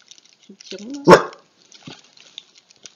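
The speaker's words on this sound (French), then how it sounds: "Mon chien qui aboie quand il y a des gens qui passent." A single sharp bark from a pet dog named Luna, close and loud, set among quiet French speech before and after.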